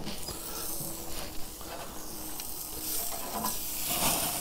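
Steak sizzling on a smoking barbecue grill outdoors, a steady dense crackle and hiss of fat with small pops throughout, fairly close and continuous.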